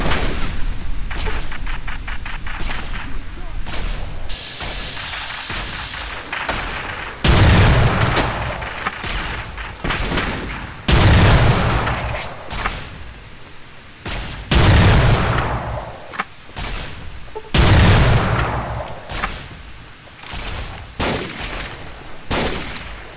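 Loud in-game gunfire from Fallout: New Vegas, a string of heavy booming shots spaced a few seconds apart over a constant background of game sound, with no speech.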